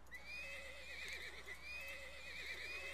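A wild horse whinnies in the Zoo Tycoon video game, a steady, high, wavering neigh that repeats through the clip at close range with no talking.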